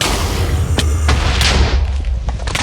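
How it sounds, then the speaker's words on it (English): An explosion ability from a Minecraft superpowers datapack goes off in a video game, with loud, heavy booms and rumbling blasts layered over a continuous roar. "Power Activate summons an explosion in front of you"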